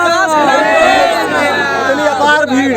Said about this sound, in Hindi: देखिए, पूरी भीड़ है, सब लोग योगी जी के साथ खड़े हैं।